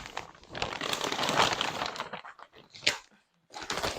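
A thin plastic bag-like package crinkles and crackles as it is handled up close, in irregular bursts with brief pauses and a sharper rustle near the end.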